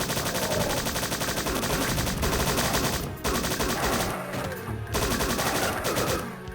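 Continuous rapid gunfire from first-person shooter Strife, loud and dense throughout with brief gaps, bursts of shots layered over a driving game soundtrack; no talking.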